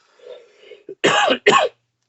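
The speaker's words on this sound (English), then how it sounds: "Apologies hugely for coughing." A soft throat-clearing followed by two sharp, close coughs in quick succession, then silence.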